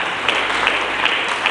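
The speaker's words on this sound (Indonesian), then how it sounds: "Mari kita berikan tepuk tangan yang meriah." Audience applause at a church sermon, a dense, steady wash of clapping at moderate loudness with a few sharper claps standing out.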